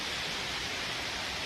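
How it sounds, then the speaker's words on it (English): Steady rain falls on a Bangalore evening, a soft, even hiss with no other sounds. "it's raining continuously"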